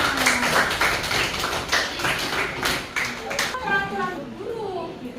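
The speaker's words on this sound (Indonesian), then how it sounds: "kita berikan aplaus dulu dong semuanya" A class of children claps together, a dense patter of hand claps close by, mixed with children's chatter. An adult voice continues over the fading applause.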